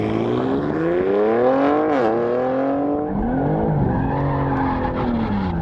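A BMW G80 M3 with a full Capristo exhaust roars hard down a runway, its engine note climbing through the gears with sharp dips at each shift, loud and close throughout with no talk.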